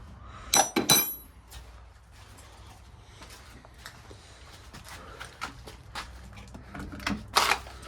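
Metal sockets clink and rattle as they are picked up and handled, with a few sharp bright clinks and softer scattered knocks and shuffles in between, close and without talk.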